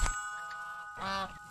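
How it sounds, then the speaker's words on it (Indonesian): A grandfather's loose goose honks in a cartoon scene, a short sharp sound at the start and then a louder nasal honk near the end, close and clear with quiet between. "Angsa atuk terlepaslah tu."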